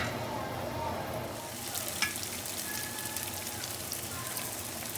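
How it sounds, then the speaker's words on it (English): Beef browning in a pan for stew, a steady close sizzle and crackle of frying meat with occasional scraping from stirring. "Stir it out a little bit in our pan."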